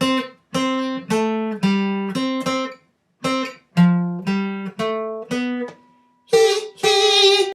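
Plucked guitar notes play the Super Mario Land overworld theme, single ringing notes with short gaps between them, ending in a brighter strummed chord.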